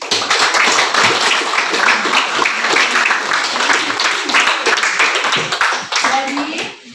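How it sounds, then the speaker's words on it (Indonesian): A group claps together after an indoor relaxation session at a school coaching activity, a dense, close burst of applause that holds steady for several seconds before tapering off and cutting out at the end. "Tepuk tangan untuk kita semua."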